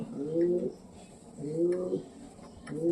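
A pigeon kept near a homemade bird cage coos three times in a slow, even rhythm, each low rolling call close and clear over quiet background.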